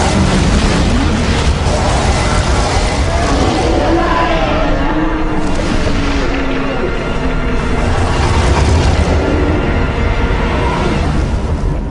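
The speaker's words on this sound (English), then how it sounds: "Enjoy the fireworks!" Dense, rumbling blasts and booming pops of Ultima I game fireworks from a flame spell explode continuously, loud and layered, with a faint voice briefly mixed in.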